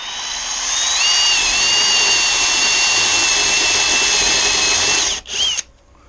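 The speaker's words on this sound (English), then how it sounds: "But I'm going to center punch those and drill those." A power drill bores holes in metal for a DIY electric fishing reel conversion, with a close, loud, steady high-pitched whine lasting several seconds that briefly dips and catches near the end.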